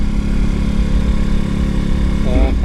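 A Keene 2-inch gold dredge's small engine runs steadily up close, a loud continuous mid-pitched putter that holds even throughout, with a brief rising rev near the end.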